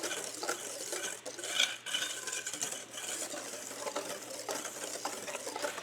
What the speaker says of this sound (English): we're gonna mix it in with our whisk.